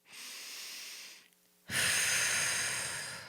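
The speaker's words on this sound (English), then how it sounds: "Then take another deep breath." A slow, deep breath during a guided visualization: a soft drawn inhale, a brief pause, then a fuller, louder breathy exhale, close and alone.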